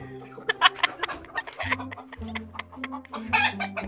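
A chicken clucks repeatedly in quick, uneven bursts close by, mixed with a lower droning tone that steps up and down in the background.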